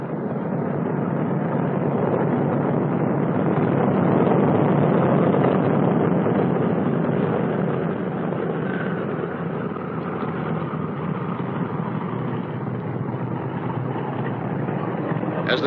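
Boeing B-29 bomber engines rumbling in a steady, dense drone while the heavy aircraft taxis on a runway, loud and continuous and muffled by wind noise on the recording.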